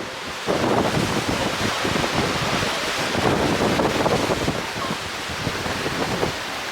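Strong hurricane wind in Orlando roars and buffets continuously, with a broad rushing noise that swells and eases for several seconds.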